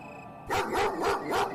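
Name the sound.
pack of dogs barking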